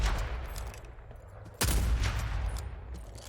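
A single sharp sniper shot cracks loudly in Rogue Company and booms away, rising out of a low rumble of background gunfire.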